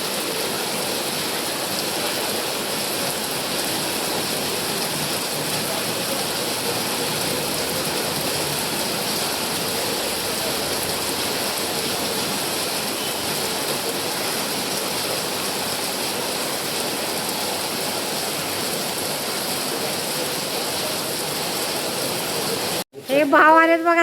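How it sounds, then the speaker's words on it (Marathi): Heavy rain falls around a house, a constant broad rushing hiss that holds steady and loud for over twenty seconds before a brief louder disturbance at the very end. "पाऊस तर बघा."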